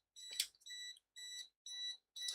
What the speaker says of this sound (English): It beeps a lot. It's always got something new to beep at you for.